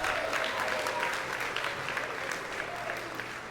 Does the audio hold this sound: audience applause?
yes